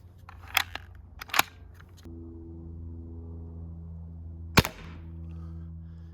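A gun fires a round through an infrared ballistic chronograph: one sharp, loud crack stands alone, preceded by a couple of lighter mechanical clicks, with a steady electronic hum in the background.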